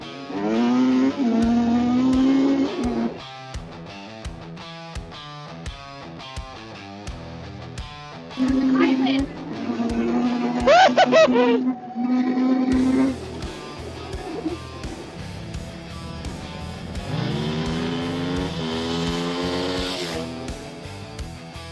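Off-road vehicles racing in the desert, engines revving and rising in pitch as they pass, with several surging bursts and a sustained high whine near the end.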